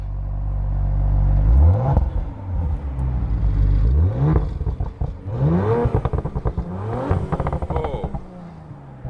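An Audi RS5 Sportback engine revs repeatedly with its exhaust valves open, climbing and dropping in pitch with a raspy, crackling exhaust, loud and close.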